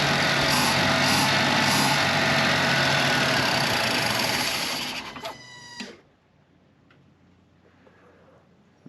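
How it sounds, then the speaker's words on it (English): A 36-year-old Land Cruiser 60 Series, jacked up in the air, idles with a steady rumble and fast ticking, then the idle ramps down, stumbles with a few sputters and the engine dies into near silence. "Ramping down the idle on its own right now."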